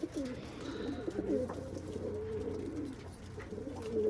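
Pigeons coo in low, throaty warbles close by, several birds overlapping continuously with faint rustling in the background.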